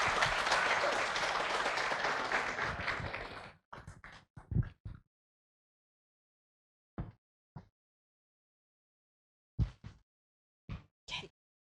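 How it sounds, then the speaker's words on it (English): Audience applause welcoming speakers to the stage at an academic plenary session, dense clapping for a few seconds that stops abruptly, followed by scattered isolated claps and bumps in near silence. "Please give applause to them."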